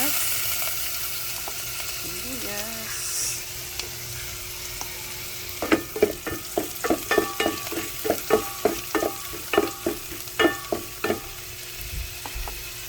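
Onion being stirred and sautéed in a pan, with a steady sizzle and a run of sharp, regular spoon scrapes and clinks against the pan, close and clear with no talking.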